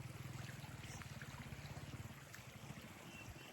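A flooded stream or road crossing gives off a steady babbling, gurgling rush of flowing water, close and continuous, with a faint low rumble underneath and no talk.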